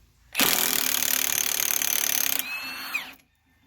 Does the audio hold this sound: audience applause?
no